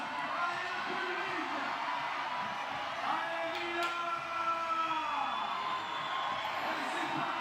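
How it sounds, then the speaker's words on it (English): Crowd cheering and roaring steadily for a climber during a lead climbing final at Villars, a dense sustained wash of voices with whoops rising over it, under a commentator's voice. "Crowd getting behind him now."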